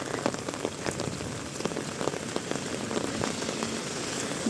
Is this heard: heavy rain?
yes